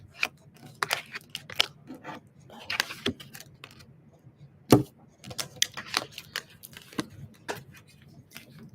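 Tarot cards being shuffled by hand, a series of brisk riffling and snapping bursts in an irregular rhythm, close and fairly quiet, with one sharper slap midway.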